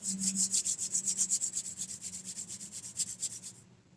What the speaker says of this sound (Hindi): अपने हाथों को रब करिए।